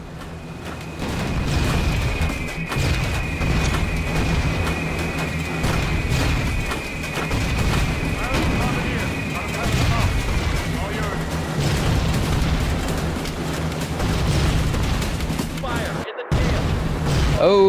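Bombs dropped from a B-17 bomber in a flight video game rumble and boom in a long, heavy barrage, with a whining tone fading partway through and engine drone underneath, while a voice talks over it.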